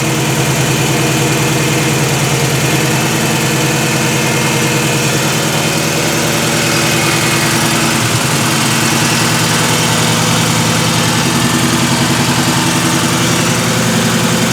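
A car engine fitted with a Sniper EFI fuel injection conversion in place of its carburetor runs at a steady idle, a loud, close, unbroken rumble that stays even throughout.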